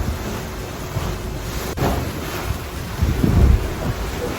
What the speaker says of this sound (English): some pretty big waves coming over the top at the moment